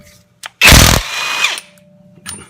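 A high-torque cordless impact wrench removes a fastener in one short, loud burst of rapid hammering of about half a second, followed by a softer whir as the motor spins freely, with small clicks around it.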